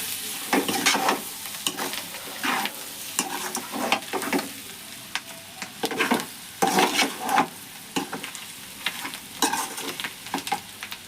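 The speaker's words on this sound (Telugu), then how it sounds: "ఒకసారి కలుపుకుందాం." Liver fry being stirred in a sizzling pan, a spatula scraping in repeated bursts over a bed of crackling oil, close and uneven in rhythm, with no talking.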